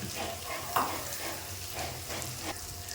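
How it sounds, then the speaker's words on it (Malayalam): Small onions, green chili, ginger and garlic sizzle steadily in a pan, with soft stirring scrapes and a few clinks breaking up the quiet, continuous frying hiss. "ചെറിയ ഉള്ളിയെല്ലാം നന്നായിട്ട് മൂത്ത് നമ്മുടെ പച്ചമുളക് നമ്മുടെ ഇഞ്ചി വെളുത്തുള്ളി എല്ലാം നല്ലതായിട്ട് മൂത്ത്"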